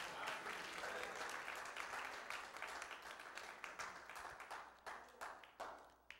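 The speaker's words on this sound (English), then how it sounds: "Everybody clap your hands" A church congregation claps their hands together during a sermon, a faint but full round of applause that gradually thins into scattered, rhythmic individual claps toward the end.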